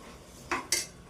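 Spoon stirring vegetable pulav in a metal pot, two quick scraping clinks close by against an otherwise quiet kitchen.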